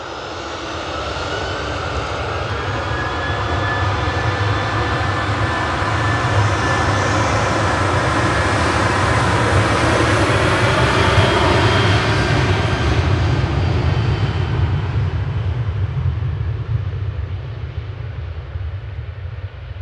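A Boeing 737-800 takes off from Manchester Airport bound for Palma de Mallorca, its jet engines a loud, sustained roar that swells and holds for about twenty seconds before fading slightly toward the end, with no talk.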